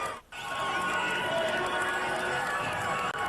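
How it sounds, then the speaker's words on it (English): A wrestling arena crowd in Memphis roars steadily for Tommy Gilbert, a loud, dense wall of voices that swells after a brief dip and holds without break, booing mixed into the sustained noise. "He was the only one booed because his sons had heat"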